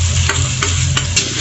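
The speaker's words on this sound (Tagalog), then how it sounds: "Saka natin paghahalo-haluin na lahat yung ating ingredients yan sa kawali." Pinakbet vegetables and softened tomatoes stirred in a wok, a steady sizzle running throughout with several scraping strokes of the spatula spaced roughly a third of a second apart.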